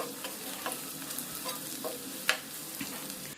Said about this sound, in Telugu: ఒక టీ స్పూన్ వరకు అల్లం వెల్లుల్లి పేస్ట్ వేసుకొని పచ్చివాసన పోయేంత వరకు ఫ్రై చేసుకోవాలి